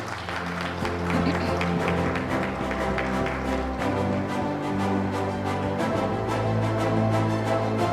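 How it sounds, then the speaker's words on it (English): Steady applause from a sizable crowd at a start-up awards event fills the whole stretch, continuous clapping over a dense background of room noise and music. "They deserve the applause, ladies and gentlemen"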